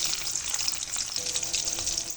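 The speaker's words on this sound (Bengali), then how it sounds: "ওই কড়ার মধ্যে আমি সাদা তেল দিয়েছি এবারে দিয়ে দেবো পেঁয়াজ" Onions frying in white oil in a wok, a bright, crackling sizzle that stays loud and close for the whole stretch.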